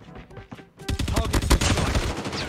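After a brief quiet moment, a Kilo assault rifle in Call of Duty Mobile erupts in loud, sustained full-auto fire. The rapid shots run together, and a voice is faintly present under them.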